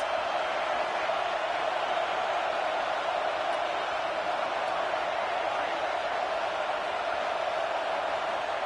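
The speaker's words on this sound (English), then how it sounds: "Listen to this crowd just shaking the girders of this place, trying to help their defense" A stadium crowd roars in an NCAA 26 college football video game, a steady, dense wall of cheering noise that holds at one level throughout without breaks.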